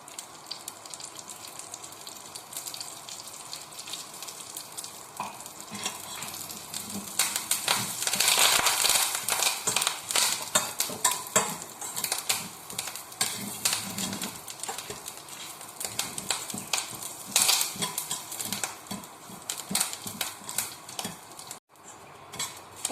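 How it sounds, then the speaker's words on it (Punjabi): Red chillies and curry leaves are dropped into hot oil for a tempering for coconut chutney, crackling and sizzling loudly and continuously in the pan, with some clinks of a metal utensil against the pan and no talking. "ਤੜਕਾ ਆਪਣਾ ਚਟਕ ਗਿਆ"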